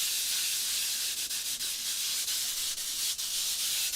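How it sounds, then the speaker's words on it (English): Steady, close scratchy sanding rasps over copper flashing and chipboard, a continuous abrasive hiss broken by a few brief strokes and pauses. "So we are going to just sand this."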